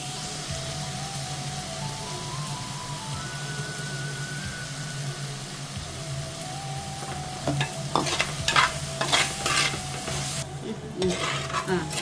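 Washed, cleaned dried prawns hiss and sizzle in a hot pan with onions, scraped and stirred by a utensil in steady, moderately loud frying with occasional clinks, alone without voices.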